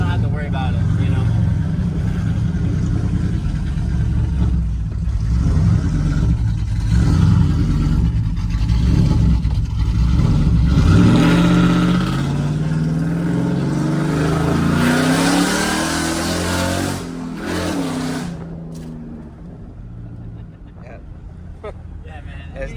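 A Ram pickup truck's engine revs hard while driving, a loud low rumble rising in pitch through acceleration and then easing off, with someone talking over it inside the cab.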